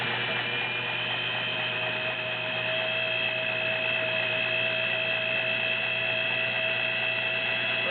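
A vintage Singer 401A Slant-o-Matic sewing machine stitching zigzag, a steady, even mechanical whir and hum with a constant motor drone and rapid needle chatter, running without pause.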